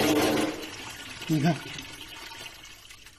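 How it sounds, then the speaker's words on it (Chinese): Water drains out through a plastic bag tied shut with a cable tie or band, with a brief gurgling pour that swells then fades; a voice speaks briefly at the start. "这个时候我放水，让大家看一眼"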